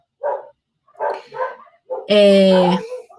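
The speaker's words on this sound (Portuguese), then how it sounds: "os cachorros da minha vizinha latindo durante a minha aula" A few short barks from neighboring dogs come in quick bursts, followed by a longer, louder drawn-out yelp or howl close by.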